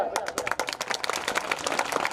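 Scattered audience applause at a comedy poetry show, many hands clapping in uneven overlapping bursts at moderate volume, with a sustained voice tone running underneath.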